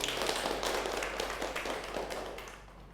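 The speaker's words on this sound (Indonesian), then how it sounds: "Oke, beri tepuk tangan untuk kita semua." Classroom applause at the end of a school lesson on monetary policy, a dense crowd of hands clapping steadily for about three seconds and tapering off slightly, with no voices over it.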